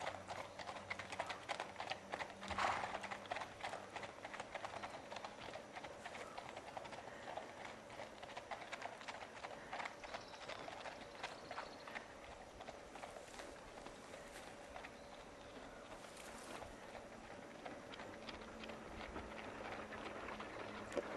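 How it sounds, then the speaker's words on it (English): A team of 22-year-old horses pulling a moving wagon, hooves clip-clopping in a steady rhythm with wheel and harness rattle throughout, outdoors and fairly faint. "The wagon's in motion. It's being pulled by a team of 22-year-old horses."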